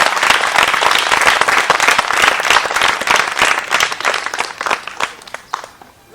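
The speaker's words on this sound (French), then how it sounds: "on les applaudit bien fort" A loud burst of audience applause at a community centre show, dense clapping from many people that holds steady and then thins out into scattered claps before fading.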